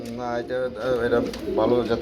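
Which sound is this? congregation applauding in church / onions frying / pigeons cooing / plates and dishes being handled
pigeons cooing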